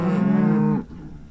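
Cattle on open rangeland in rural Petroleum County, Montana give a single loud, drawn-out moo that lasts most of a second and then drops away to quiet background.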